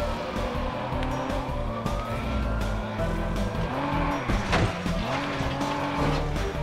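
A car in the video game Watch Dogs races through Chicago streets, its engine revving loud and close with repeated tire squeals and skids, a siren-like wail mixed in.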